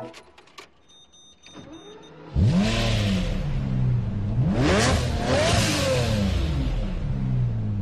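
A Lamborghini Reventon's 6.5-litre V12 roars to life in the Forza 4 racing game after a quiet electric whir, then revs loudly in rising and falling swells that stay close and dominant.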